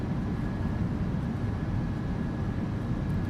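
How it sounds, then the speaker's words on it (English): Steady broadband roar of jet airliner reverse thrust during the landing rollout in a PMDG flight simulator, arriving at Manchester, loud and continuous with a faint high whine throughout. "Reverse thrust out."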